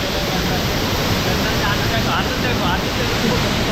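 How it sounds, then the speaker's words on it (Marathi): Nhavankond waterfall flowing, heard as a steady, loud, broadband rush of falling water that fills the whole clip with a faint voice now and then underneath. "बघा एक धबधबा हा एक धबधबा"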